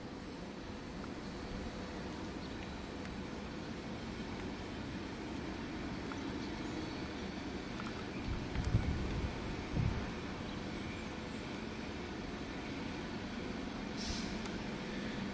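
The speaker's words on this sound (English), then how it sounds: "Wellington to Auckland. Express freight train." A Wellington-to-Auckland express freight train rolls past at some distance near Marton, New Zealand, making a steady, continuous rumble with a couple of brief heavier thumps midway.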